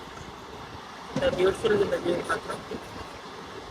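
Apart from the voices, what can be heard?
train running through hills, Khammam to Bhadrachalam route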